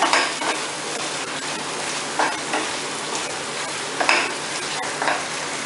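A spoon stirs methi matar mushroom malai in a hot pan with butter, making a steady close sizzle with repeated scraping strokes and light metallic clinks.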